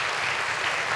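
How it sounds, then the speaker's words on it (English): Church congregation applauding, a dense, steady wash of clapping that fills the whole moment without letting up. "Can we give them a big round of applause today?"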